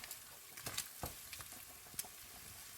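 Chopped onion sizzling in a hot pan for a baked macaroni dish, a quiet steady crackle broken by a few sharp scraping clicks as it is stirred.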